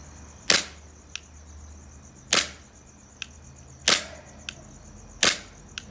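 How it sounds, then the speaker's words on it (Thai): Airsoft gun fitted with a tracer unit firing four sharp semi-automatic shots, evenly spaced about every second and a half, each crack followed by a faint click of the action, with no other sound around them. "เดี๋ยวจะลองยิง แบบเซมิสักสี่นัดแล้วกันนะครับ"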